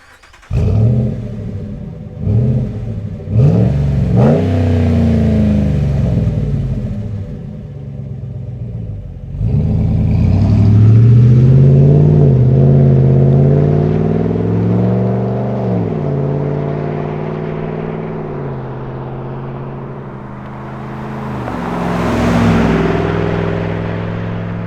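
A Ram 1500 pickup with the 5.7L HEMI V8 and an MBRP direct-fit muffler rumbles loudly as it drives off, revving and shifting through gears with a deep, steady exhaust drone that swells and eases over time.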